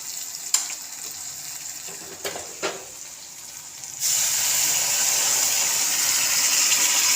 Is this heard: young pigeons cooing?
no